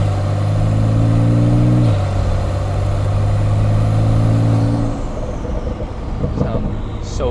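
Porsche 911 with a PDK gearbox and sport exhaust pulls hard, its engine note climbing through two quick upshifts before settling, loud and close.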